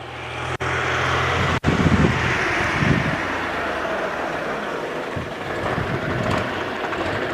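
A tractor engine drones steadily and loudly close by, a continuous broad rumble that holds for several seconds after two brief cutouts near the start.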